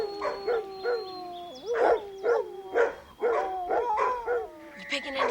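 Several dogs barking in bursts with whining, howl-like tones, close and loud, with voices mixed in among the barks.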